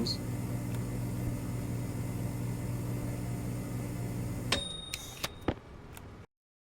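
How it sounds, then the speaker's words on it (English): A microwave cooking tomatoes in a video game gives a steady, loud electrical hum for several seconds. The hum then stops, a few beeps and clicks follow, and the sound ends in silence. "let me just go ahead and cook up some tomatoes here real quick"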